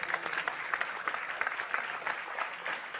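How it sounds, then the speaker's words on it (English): Audience applauding at the close of a lecture on the future of jobs, steady dense clapping that runs throughout, moderately loud and with no talking over it. "Can I have more applause for Ying Zhang?"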